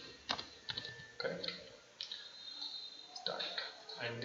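Computer keyboard keys clatter in quick bursts while someone works in an Excel spreadsheet, crisp close clicks in uneven clusters with pauses between, and a person speaks faintly underneath.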